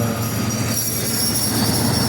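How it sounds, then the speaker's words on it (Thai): A train passes close by, its rail cars rumbling loudly and steadily with squealing wheels throughout, and no talking over it. "ให้รถไฟไปก่อนยืนมอง"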